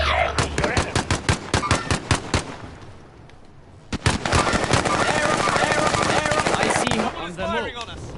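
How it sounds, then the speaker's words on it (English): Rapid machine gun fire in the video game Warzone, loud close bursts of evenly spaced shots, a brief lull, then a longer sustained volley ending with fainter background game noise. "Firing on us."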